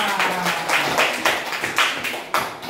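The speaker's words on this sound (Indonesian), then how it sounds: "Tepuk tangan semuanya." A classroom of students clapping together during a math lesson, a short burst of rhythmic, fairly even claps at a steady pace, moderately close and slightly muffled.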